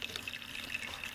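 A measured 175 ml of water is poured for making bioplastic, a soft, steady trickle with faint dripping tones, quiet and close, no talking.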